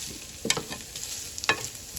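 Paneer fries in a pan with a drop of oil, giving a faint low sizzle broken by two sharp scrapes or flips, quiet and with no speech.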